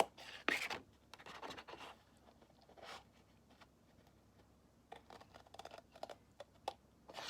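Scissors or a craft knife cutting paper diagonally along score lines, giving short scratchy snips in bursts with quiet pauses between, close and fairly soft.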